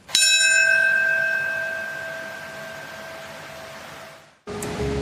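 A single deep bell toll at a 9/11 memorial ceremony, struck once and ringing out with a long, slowly fading resonance before cutting off abruptly.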